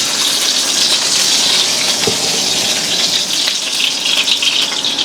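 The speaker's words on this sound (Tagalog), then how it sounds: "Maglalagay lang ako ng olive oil. Then, gigisa ng bawang." Garlic sautéing in olive oil in a pan, a steady loud sizzle with a bright hissing texture that holds throughout, no voices over it.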